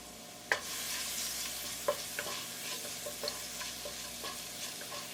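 Ginger garlic paste sizzles in three tablespoons of hot oil in a pan for a burger pizza filling, a continuous close frying hiss broken by a few sharp spatters and a loud pop at the start.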